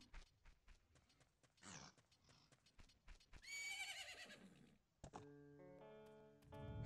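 Epona the horse neighs loudly in the video game Zelda Majora's Mask, with hoof clip-clops first. A bright whinny follows in the middle, then game music tones take over.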